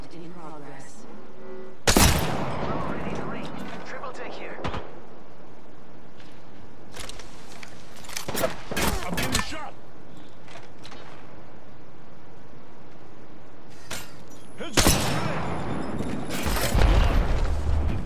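Video game firefight gunfire comes in loud, sharp bursts spread across the stretch, some single shots and some rapid clusters, with quieter mechanical clatter between them and occasional voice activity.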